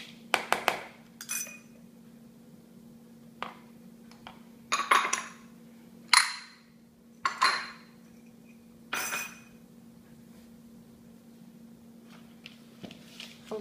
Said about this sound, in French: Faut bien mélanger les ingrédients.